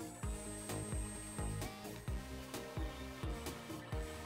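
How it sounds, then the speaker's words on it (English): A hand drill bores holes through white G10 knife handle scales clamped to wood, giving a steady grinding whir with rhythmic strokes repeating about twice a second, close and loud. "now I'm going to set it up and drill the holes through the handle scales"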